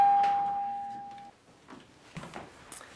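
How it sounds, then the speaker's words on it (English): A single electronic doorbell chime rings out clearly in the foyer of a heritage house and fades over about a second, followed by faint rustling and soft movement. "And the doorbell still works."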